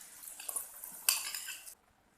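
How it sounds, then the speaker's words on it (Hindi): Omelette egg mixture poured into a pan of stir-fried sausages, with soft clinks of utensils, a brief sizzling splash and scraping that fade into quiet near the end. "अब मैं इसके अंदर ऑमलेट डाल दूँगी।"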